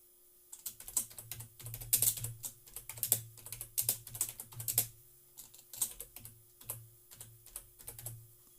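Rapid bursts of typing on a computer keyboard while entering a site title during a WordPress setup, clicks coming in uneven clusters with short pauses, close and clear with no talking.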